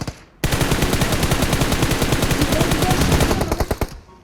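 Rapid automatic gunfire in the mobile battle-royale game PUBG Mobile, a dense unbroken burst of shots lasting several seconds, loud and close, then tapering into a few spaced final rounds.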